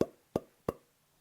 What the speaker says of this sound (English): the HPA system and the silencer with the foam inside makes the gun really, really silent